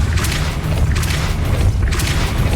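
A Depulso force spell cast in the wizarding game Hogwarts Legacy, a loud booming whoosh repeated about three times over a low rumbling background.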